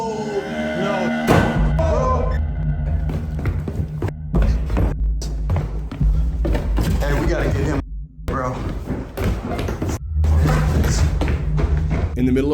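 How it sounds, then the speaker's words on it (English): A loud, heavy bang shakes the whole house, booming out amid excited talking, with people's voices reacting before and after the impact. "we were interrupted by a loud bang. Shook the whole house."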